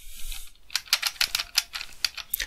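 Sharp, loud keystrokes on an IBM Model M buckling-spring keyboard, each press a crisp springy clack in an uneven run, close and alone after a brief quiet start.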